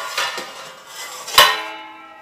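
Plates and dishes cleaned in a KORYO tabletop dishwasher clink and clatter as they are handled. A few close, bright knocks ring out, with one sharp ringing impact standing out near the middle.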